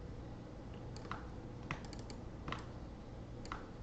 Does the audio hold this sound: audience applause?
no